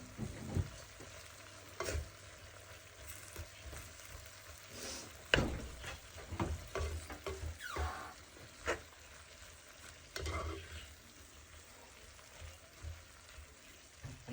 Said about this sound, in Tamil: சேர்த்த மிக்ஸை நல்லா கலந்து விடுவோம்.